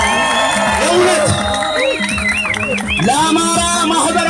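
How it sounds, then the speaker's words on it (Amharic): Crowd at an Amhara associations rally cheering and applauding loudly throughout, with whoops, shouts and high-pitched calls rising over steady clapping. "ለአማራ ማህበራት በሙሉ ሞቅ ያለ ጭብጨባ"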